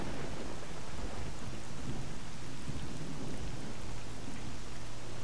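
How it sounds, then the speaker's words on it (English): Steady rain with rolling thunder in a video game set around Pripyat, a continuous loud wash of rainfall with deep rumbles underneath, no voices. "And it's raining again, of course."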